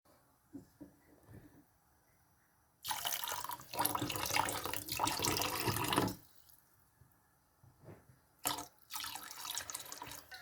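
Water gushes in two long bursts into a cooking pot of golden-fried lentils, with steady, loud splashing and short quiet gaps of clinking between the pours.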